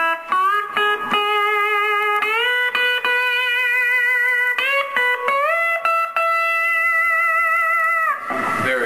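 An electric slide guitar carries a lyrical melody with smooth gliding pitch changes and sustained singing notes, loud and close, with picked attacks between held tones and no talk.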